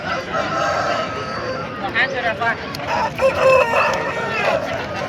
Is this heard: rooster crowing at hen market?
yes